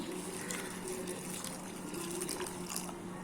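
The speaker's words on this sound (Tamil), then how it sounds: "இப்போ இதுக்கு தேவையான அளவுக்கு தண்ணி ஊற்றிக்கலாம்." Water pours steadily into a pressure cooker holding chana dal, a continuous gushing splash with a faint low hum underneath, close by and fairly quiet.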